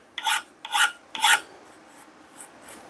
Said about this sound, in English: I'm just taking a file, a very smooth file